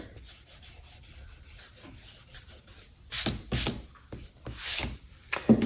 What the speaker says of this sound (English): I'm going to take my kneaded eraser and I'm going to lighten up my lines here